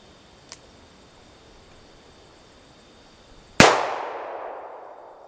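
A single sharp, loud shot from a .44 Magnum revolver fitted with a red dot sight cracks out after a quiet stretch and decays into a long ringing tail outdoors.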